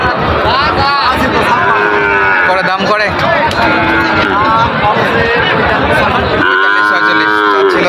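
Cattle, including Sahiwal, Gir and Brahman bulls, moo repeatedly amid a busy crowd at a rain-soaked cattle market, with voices chattering and bargaining throughout and a loud, long moo near the end, close by.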